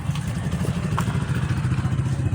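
A motorcycle passes on a nearby road, its steady mid-pitched engine drone holding at moderate loudness throughout with no talking.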